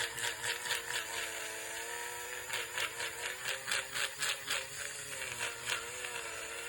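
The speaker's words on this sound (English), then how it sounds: "I have an electric eraser here" Electric eraser with a new nib whirring against drawing paper, a steady motor buzz with rhythmic rises as it is pressed and moved in short strokes.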